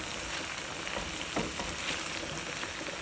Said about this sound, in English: There goes some okra and some butter bean.